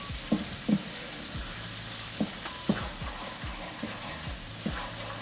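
Ground meat browning in a pan for homemade nachos gives a low, steady sizzle, with a handful of soft spatula scrapes and taps spread across the clip and no voices.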